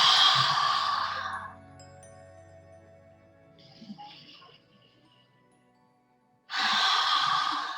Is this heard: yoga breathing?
yes